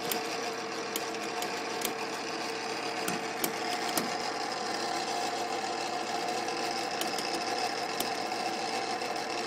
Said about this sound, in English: working on the metal lathe. He's cutting stainless steel.